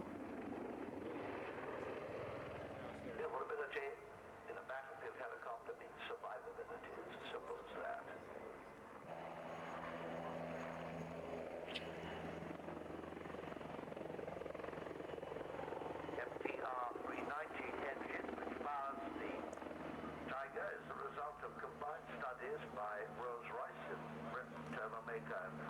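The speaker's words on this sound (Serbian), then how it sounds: "helikopteri su na veoma slikovit način prikazali sve svoje veoma široke mogućnosti, izvodeći razne akrobacije" Military helicopters perform aerobatics, including a loop, at the Farnborough airshow in 1994, their rotor and engine drone rising and fading at a distance beneath a voice talking.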